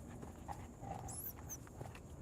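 Puppies panting softly at close range, a steady quiet huffing rhythm with faint movement around them.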